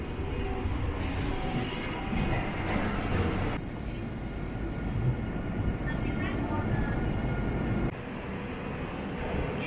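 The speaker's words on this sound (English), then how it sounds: "Just a few trains coming in and out." A Jinshan Railway train rumbles steadily through a Shanghai station, a broad continuous roar with rail noise, while people talk over it.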